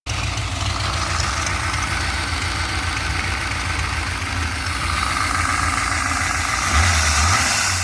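An old Ford F150 engine idles steadily, a close, loud, even rumble that holds constant throughout with a slight rise near the end, no voices present.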